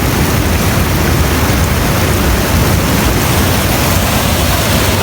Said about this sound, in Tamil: சத்தத்தை பார்த்தீங்களா வாய்க்கால் அப்படி தண்ணி ஓடி வந்து